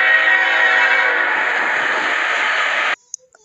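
A CSX freight train sounds a long, loud, sustained horn blast up close, then cuts off abruptly into near silence with a couple of faint clicks.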